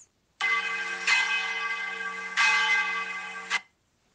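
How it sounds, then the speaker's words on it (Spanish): The great bell of a cathedral strikes three times, loud and near, each stroke a bright ringing clang with a long humming sustain that blends into the next before the final one cuts off into silence. "Te percatas de que es el sonido sagrado de la campana mayor."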